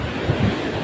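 Strong wind roars across the microphone over rough sea waves while fishing out on choppy water, a steady loud rush with no clear breaks.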